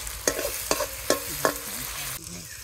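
Garlic and chopped tomatoes frying in a pan in a village kitchen, with a steady close sizzle broken by four sharp stirring scrapes at regular intervals before the frying settles.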